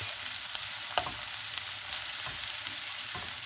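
Onions sauteing in a pan for an egg curry give a steady, close frying sizzle with a few soft stirring clicks and scrapes, no voices.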